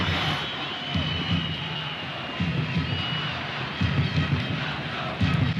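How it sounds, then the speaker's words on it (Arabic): A stadium crowd cheers a football player during an Al Ahly match in the 2006 African Champions League: a constant distant roar of the crowd with swelling surges, fairly loud and broad, with voices rising in bursts. "الجماهير بتحييه"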